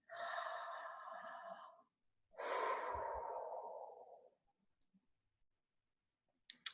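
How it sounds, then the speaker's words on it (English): A slow, deep breath drawn in and then let out in a long sigh, close and quiet, followed by faint clicks and small mouth noises. "Take a nice deep breath here."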